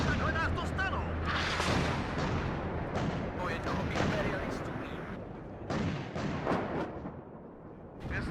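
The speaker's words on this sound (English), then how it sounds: "Let the cannon battery do its thing." Cannon battery firing in the WARNO wartime strategy game, a dense run of repeated booms and blasts over continuous rumble, with a voice talking through much of it.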